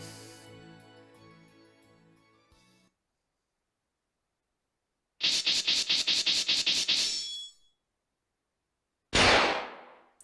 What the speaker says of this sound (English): it's like a cool gunshot sound and everything